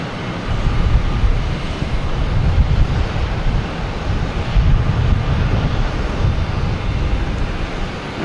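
A Delta Airbus A321 jet arriving at Boston Logan Airport from Orlando makes a loud, sustained roar mixed with wind buffeting the microphone, swelling and easing gently over several seconds with no speech.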